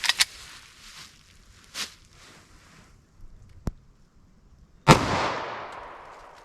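A Taurus G2C pistol with a 3.2 inch barrel fires a 9mm 115 grain jacketed hollow point, one sharp loud shot with a ringing decay outdoors, preceded by a few small clicks and handling noises.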